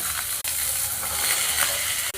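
Beans and potatoes fry in hot oil, giving a steady close sizzle that runs unbroken with no talk, apart from two very brief dips in the hiss.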